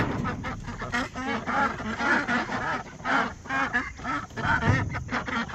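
A flock of ducks on a small homestead quacks steadily and loudly as they are moved out of the barn, with overlapping calls in a close, busy chorus and no talking.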